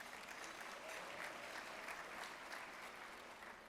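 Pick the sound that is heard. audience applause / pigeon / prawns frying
audience applause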